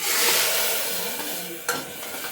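Lentils tipped into a pan of fried onions in a village kitchen, giving a steady broad sizzle with stirring scrapes and one sharp clink of a utensil near the end, close and fairly loud, no talk.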